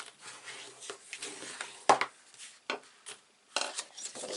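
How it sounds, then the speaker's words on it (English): Paper for a small gift box is folded and burnished, giving quiet rubbing and scraping strokes with a few sharper creases, close and intermittent. "So just fold and burnish."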